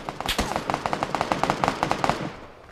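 A quick string of pistol shots rings out in PUBG on PS5, roughly a dozen rapid, evenly spaced cracks played close and loud, then tailing off.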